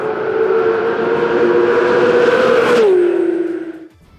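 A 2022 Porsche 911 GT3 RS at speed on a race track, its engine a loud, sustained howl that holds steady before dropping in pitch as the car backs off and fades toward the end.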